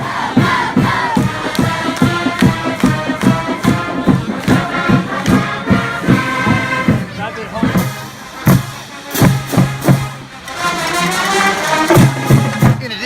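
A homecoming football crowd in the stands roars and cheers continuously, loud and dense, with surging shouts and voices layered throughout.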